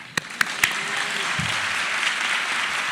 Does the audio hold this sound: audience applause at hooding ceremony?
yes